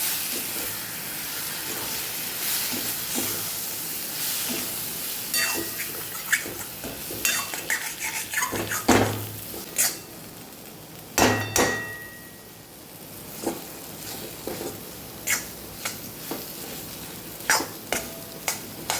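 Chilli sambharo with gram flour being stirred in a pan, a continuous sizzle under repeated scraping and knocks of a spoon against the metal, close and moderately loud.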